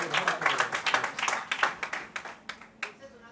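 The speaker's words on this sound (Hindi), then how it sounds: "बहुत जोरदार तालियां होनी चाहिए दोस्तों।" An audience at a poetry recital claps in several uneven bursts, with some voices heard among them as the clapping thins out toward the end.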